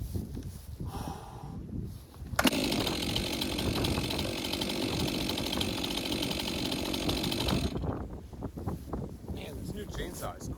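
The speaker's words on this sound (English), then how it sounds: "Man, this new chainsaw is quick." A new chainsaw cutting down trees roars loud and close for about five seconds in one continuous high whine, with wind noise and quieter outdoor sounds before and after.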